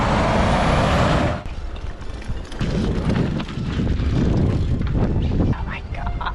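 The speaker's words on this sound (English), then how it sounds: "Oh, big truck, big truck!" A big army truck passes along the ancient Appia Antica road in Rome: a loud, close roar at first that drops off quickly to a rougher, lower rumble as it moves on.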